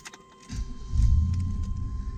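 A 1997 Chevrolet Suburban engine cranks and starts, a low rumble that rises after a brief crank and settles into a steady idle, with faint clicks before it.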